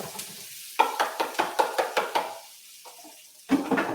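Onions, garlic and ginger dropped into hot oil in a pan, heard as a quick run of rhythmic stirring taps and sizzle bursts, a brief pause, then another clattering burst; no talking.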